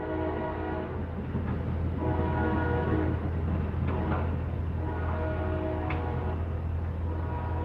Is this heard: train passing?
yes